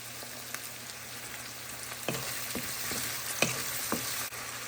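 Okra and shrimp sauté in a hot pan, giving a steady close sizzle with a few sharp clicks and scrapes of stirring, and no talk.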